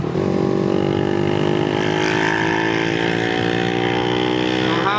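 Remapped Honda Winner X motorcycle with stock ECU, engine revving hard toward 9,000 RPM, a loud buzzing whine that climbs steadily in pitch throughout, heard close up while riding.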